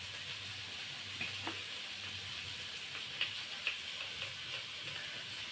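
Onion, coriander leaves and spices fry in a pan with a soft, steady sizzle and hiss, along with a few light clicks of stirring close by, and no one is talking.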